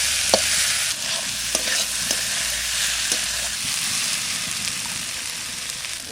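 Onion frying in a small amount of oil in a pan, a steady close sizzle broken by a few scraping stirs of a spatula against the pan.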